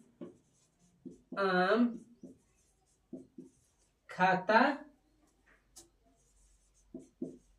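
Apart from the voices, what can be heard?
writing on a board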